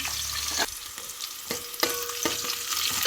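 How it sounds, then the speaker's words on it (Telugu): Chopped onions frying in hot oil in a pan for khichdi, a steady close sizzle broken by a few sharp stirring scrapes and clicks, with no voices. "ఉల్లిగడ్డ వేసుకుంటున్నాము. కొంచెం లైట్ గోల్డ్ కలర్ వచ్చే వరకు ఫ్రై చేసుకుందాము."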